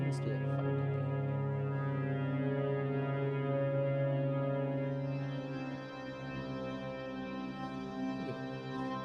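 Dark, droning drum sound heavily compressed in Ableton for a dungeon synth track: a sustained, humming low tone with a dense harmonic stack that fades slightly over nine seconds, played alone without talking.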